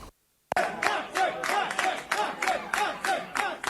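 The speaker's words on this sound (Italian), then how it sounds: "Gli applausi dei fan" Fans greeting sprinter Marcel Jacobs, Olympic champion of 2021, on his return to Padova: a crowd bursts into loud, sustained clapping and cheering right after a brief silence, with scattered voices and shouts mixed into the applause.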